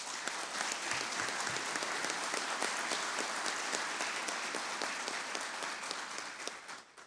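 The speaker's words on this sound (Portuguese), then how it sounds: "palmas." Sustained applause fills the chamber during a solemn legislative session honouring a new honorary citizen, a thick even wash of many hands clapping at constant loudness, with a few sharper individual claps poking through, and no speech heard.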